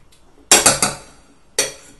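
A spoon stirring deviled egg filling in a bowl, giving a quick burst of three bright clinks followed by a pause and one more clink, close and crisp.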